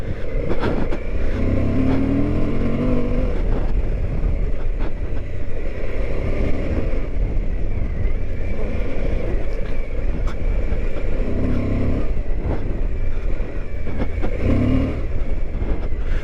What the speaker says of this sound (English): Let me show you, you can lug the bike down.